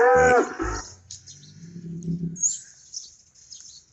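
Cattle low in a pasture with a moo under faint bird chirps, one close call at the start and softer calls after.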